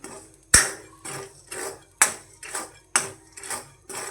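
Black chickpeas being stirred dry in a kadai, with no sand, heard as a steady series of sharp metallic scrapes and knocks, roughly two per second, close and clear with no talking.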